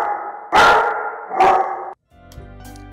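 A character named Siren Head in a dating simulator video game imitates a dog with two loud, sharp bark-like bursts in quick succession, followed by a brief silence and then quieter game sounds.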